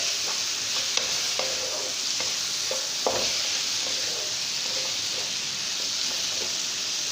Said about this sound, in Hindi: इस तरह सारी चीज़ें एक साथ डालकर इसकी अच्छी तरीके से भुनाई करनी है